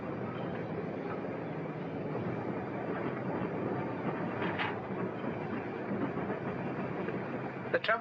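A tram rumbles past at steady volume, a broad low mechanical roar with faint squeals and clanks toward the end.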